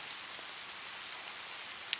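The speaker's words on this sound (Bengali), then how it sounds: "আকাশ ভাঙা মেঘের ডাক আর বৃষ্টির বেগ যেন আরও বেড়ে গেল" Heavy rain falls steadily as a wash of hiss with no break or talk, like a downpour in a spooky night scene.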